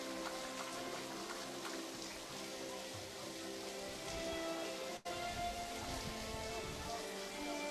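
Steady rain falls over an outdoor college softball tournament game, a dense, even hiss of drops that continues throughout with no clear speech.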